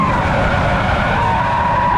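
An Audi R8 rear-wheel-drive car skids under hard driving, its tires squealing loudly and continuously over a roaring engine, close and unbroken.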